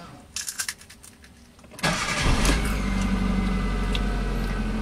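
A Kia Picanto engine slow to start: brief clicks and rattles, then the starter cranks at about two seconds and the engine catches into a loud, steady idle that continues close by.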